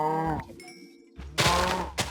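Cattle in the game Minecraft low in short bursts, a drawn-out moo followed by a couple of brief calls, fairly close with quiet gaps between.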